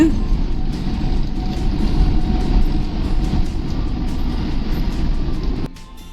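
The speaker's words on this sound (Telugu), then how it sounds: "మన బస్సు ప్రస్తుతం వంద స్పీడ్లో వెళ్ళడం జరుగుతుందండి" A Volvo multi-axle bus cruising at highway speed on the Hyderabad–Vijayawada road gives a loud, continuous low engine and road rumble heard from inside the cabin, which drops off abruptly near the end.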